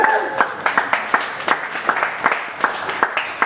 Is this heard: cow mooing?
no